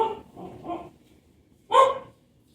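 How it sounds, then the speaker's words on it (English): A household dog barks in a home kitchen during baking, a few quick moderately loud barks followed by a single stronger bark, then quiet. "My dog was barking."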